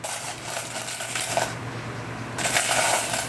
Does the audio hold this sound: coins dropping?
yes